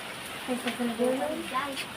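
Steady rain from a strong typhoon patters and hisses in the background while a voice speaks softly over it.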